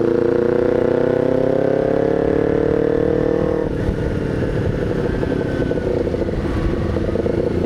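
A Kawasaki Ninja 250R fitted with an SC Project exhaust runs loud and close, its engine tone climbing steadily for a few seconds before settling into a rough, rumbling drone with no talking.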